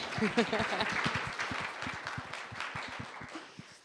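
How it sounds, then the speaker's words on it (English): Audience applause rises as a crowd claps steadily, fairly close, then slowly fades over a few seconds, with a speaker's voice heard briefly at the start. "yeah, please applaud, that's good"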